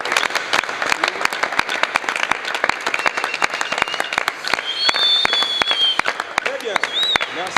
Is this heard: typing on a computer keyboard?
no